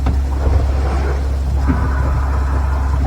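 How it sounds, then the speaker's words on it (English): A sailing boat's engine runs with a steady, loud low rumble that holds unbroken throughout, with faint water and wind noise on top. "Engine."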